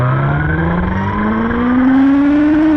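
A 1000cc inline-four sport bike engine pulls hard under acceleration, its steady rising whine climbing in pitch across the whole run, loud and close with no voices.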